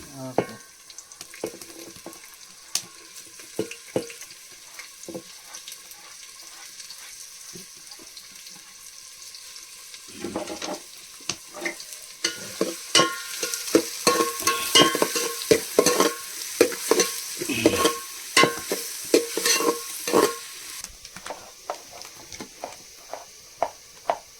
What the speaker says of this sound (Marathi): अद्रक मिरची आणि कांद्याची फोडणी